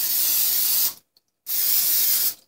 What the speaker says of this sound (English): let's get a little of the olive oil spray on there